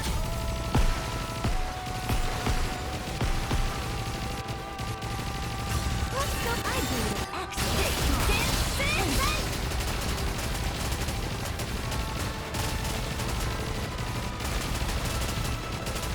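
Rapid gunfire rattles continuously in the mobile shooter game Nikke, dense bursts and impacts layered over game music, with a voice talking over the action.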